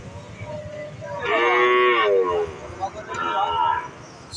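Two drawn-out moos from young Shahiwal calves at a village cattle market, close and loud over a low murmur of background noise.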